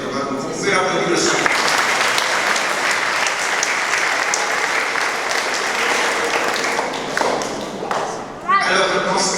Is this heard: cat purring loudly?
no